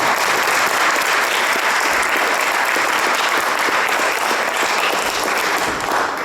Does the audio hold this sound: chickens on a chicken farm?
no